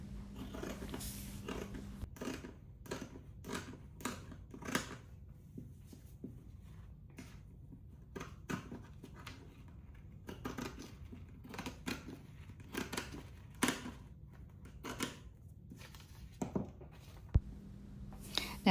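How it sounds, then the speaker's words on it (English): Zigzag pinking scissors snip through fabric while cutting triangles for no-sew Christmas bunting, giving a steady run of quiet, crisp clicks and crunches at close range with no talking. "So by using the zigzag scissors"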